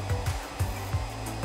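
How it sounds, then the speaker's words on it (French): A hair dryer blowing on a spoon of chocolate to melt it, a steady close whir with a regular pulsing flutter recurring through the short stretch, no voices. "je prends du chocolat, puis je le mets sur une cuillère et j'attrape mon sèche-cheveux"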